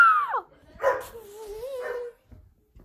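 A dog in a family movie trailer gives a few short, close yelping barks and whiny vocal sounds, with brief gaps between them.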